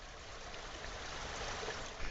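Water rushes and trickles steadily from the canal into the collapsed section of the C&O Canal, a continuous, fairly faint outdoor flow with no talk.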